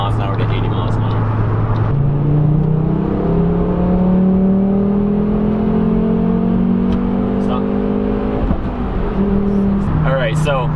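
A Volvo V70R engine revs up steadily in third gear from 40 to 80 mph, pitch climbing over several seconds, then a brief shift and a fresh rise near the end.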